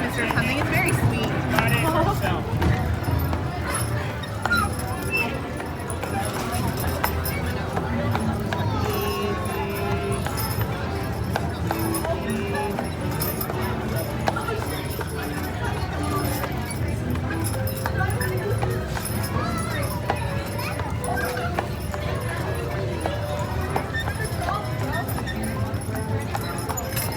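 Horse hooves clip-clop steadily as a horse pulls a trolley down Main Street U.S.A. at Disneyland, set against a busy crowd with people chatting throughout.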